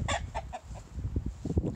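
Chickens cluck in quick, uneven bursts at close range, with a rooster-like call among them, loud and busy with no talk over them.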